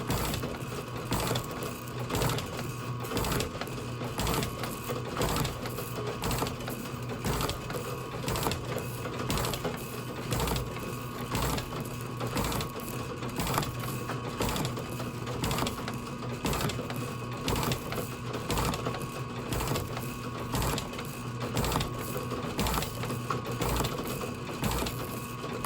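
A metal shaper cuts a carbide insert tool holder with a steady, rapid rhythmic clatter of strokes, a constant loud mechanical churn with no pauses.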